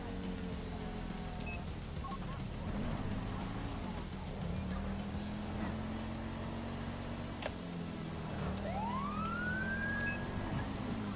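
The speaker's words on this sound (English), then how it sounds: "Good thing we had the siren on there, up and over the top of the hill." A police car siren in the LSPDFR mod for GTA V wails steadily on a sheriff's patrol Chevy Caprice PPV, loud and continuous under a constant engine drone, with one rising sweep near the end.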